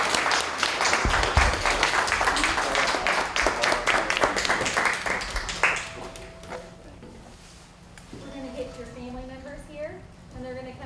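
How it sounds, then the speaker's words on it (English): Crowd applause for WWII veterans at a Pearl Harbor remembrance event, a dense burst of many hands clapping that tapers off midway, after which a voice speaks over fading scattered claps. "So can we give them a round of applause"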